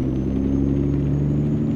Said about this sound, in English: today the truck's running a Cat C15